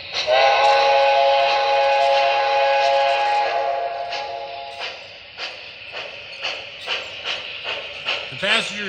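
An MTH Monon 4-6-2 Pacific model steam locomotive in Indiana University paint sounds its whistle steadily for a few seconds, then a rhythmic series of chuffs and clicks follows as it pulls away.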